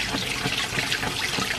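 Water runs from a tap while a jacket is washed, a steady hissing splash for the whole short stretch, close and fairly loud, with no talking.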